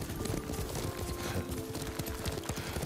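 A horse ridden at a steady gait in Ghost of Tsushima, with rhythmic hoofbeats clip-clopping continuously and fairly close, set against a soft ambient bed, no talk.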